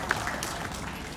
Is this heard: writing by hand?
no